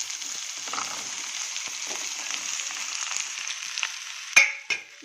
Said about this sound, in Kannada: ಇದು ಎಲ್ಲ ಫ್ರೈ ಆಗಬೇಕು ಒಗ್ಗರಣೆ ಒಳಗೆ ಚೆನ್ನಾಗಿ.